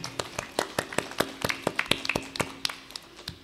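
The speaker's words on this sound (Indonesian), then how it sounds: "Tepuk tangan dulu sebelumnya." Audience at a school quiz competition clapping in unison, about sixteen sharp, evenly spaced claps in a steady rhythm, crisp and moderately close with no talking over them.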